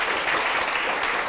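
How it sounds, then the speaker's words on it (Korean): A church congregation applauds in a dense, steady wash of clapping that fills the hall evenly from start to finish, with no voices standing out. "박수 부탁드립니다."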